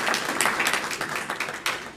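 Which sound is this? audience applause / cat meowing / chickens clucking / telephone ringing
audience applause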